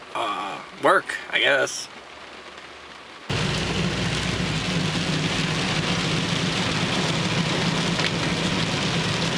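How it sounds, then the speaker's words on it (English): Heavy rain pours down outside a parked car, a dense steady roar drumming on the roof and glass that cuts in abruptly after a brief stretch of someone talking and continues loud and unbroken. "It's pouring outside"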